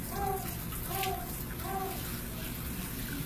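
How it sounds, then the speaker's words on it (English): A dog with severe mange, scabs and missing hair is bathed under steady running water, a continuous wash of splashing that fills the background with a few faint tonal voices above it. "they're bathing him"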